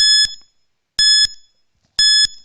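A quiz countdown timer gives three loud, identical electronic beeps, one each second, with silence between them.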